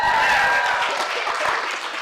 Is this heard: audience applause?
yes